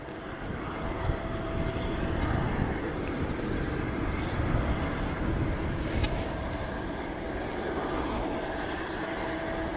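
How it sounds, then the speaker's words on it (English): A West Atlantic Boeing 737 on approach to land at East Midlands Airport, a mile or two from touchdown, its engine roar a steady, broad rumble that holds loud and unbroken throughout. "we've got our second West Atlantic Boeing 737 literally around about a mile or 2 miles from touchdown"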